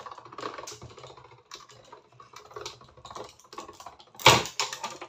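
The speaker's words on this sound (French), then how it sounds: "Je vais envaser ça dans ma machine de découpe qui va faire un bruit du tonnerre puisqu'elle est d'époque" An old vintage die-cutting machine runs while cutting foil-craft flower shapes, giving irregular mechanical clacking and rattling bursts, close and fairly loud, with a sharp, heavier clatter near the end and no talking.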